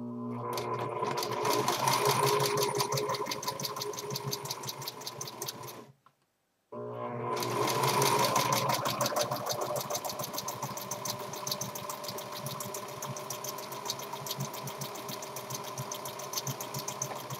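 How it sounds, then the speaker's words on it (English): A sewing machine stitches along the very edge of a fitted cloth diaper, whirring steadily and loudly with one brief pause before it resumes. "Now I'm going to sew the diaper shut, and to do this I'm going to sew right along the very edge of the fabric."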